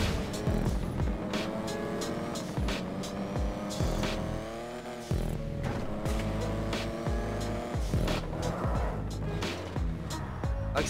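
A JB 700 car in GTA 5 revs hard and accelerates, its engine note climbing through gear shifts with repeated tire squeals, loud and close throughout, with faint voices occasionally underneath.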